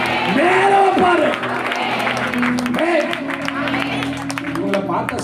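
Audience applause at a church convention celebration, a steady wash of clapping throughout while a voice speaks and sings over it with amplified, reverberant tone.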